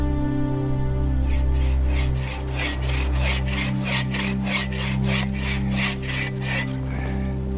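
A handsaw cuts through a stout wooden pole outdoors in a snowy subarctic winter, with steady rasping back-and-forth strokes in an even rhythm, close and loud, with no talking.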